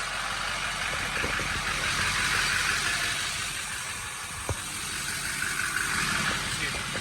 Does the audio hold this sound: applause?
no